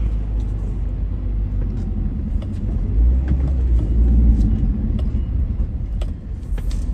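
Heavy road traffic jam near Camba, Maros, heard from inside a moving vehicle: a constant low engine and road rumble swelling midway, with faint clicks and knocks from the cabin and no speech.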